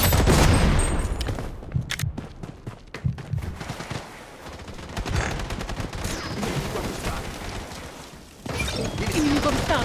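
Heavy gunfire in the shooter game Blood Strike during a hot-zone match: dense rapid volleys and scattered single shots, loud and close, with crashes and game voice lines mixed in.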